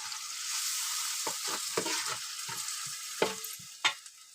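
Spice paste being stirred and roasted in a hot pan for a biryani masala, a steady close sizzle broken by several sharp scrapes and knocks of the spoon, with no voices.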